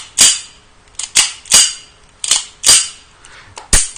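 Sharp, loud shots from a Colt 1911 A1 KWC airsoft pistol firing 0.25 g BBs, seven snappy cracks in an irregular rhythm over about four seconds, each with a brief metallic slide clack, close up with no talk.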